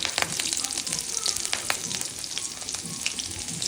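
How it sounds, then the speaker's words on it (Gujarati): Cumin, two cloves, cinnamon and green chillies crackle in hot oil as a tempering for Gujarati kadhi, giving a steady, close, dense sizzle with quick pops throughout and no voices. "તેલ ગરમ થાય ત્યારે અહીંયા એમાં જીરું, 2 લવિંગ, તજ અને લીલા મરચાં નાખી દીધા છે."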